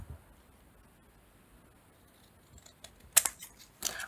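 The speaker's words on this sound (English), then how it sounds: "I'll just get my scissors for this job." Scissors snip through paper bookmarks, two sharp close cuts near the end after a quiet stretch of faint handling noise.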